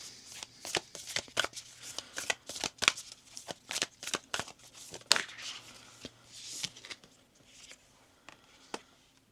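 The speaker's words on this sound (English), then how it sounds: "Let's get a card from Kuan Yin." Oracle cards featuring Kuan Yin are shuffled in a rapid run of crisp, close riffling flicks and slaps, fairly loud and alone, tapering off toward the end.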